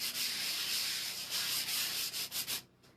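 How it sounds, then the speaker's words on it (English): Steady scratchy rubbing of a sanding sponge over stiff waxed, painted cushion fabric, continuous and close, breaking into a few short strokes before stopping. "taking the sanding sponge to it helped to soften up the wax even further"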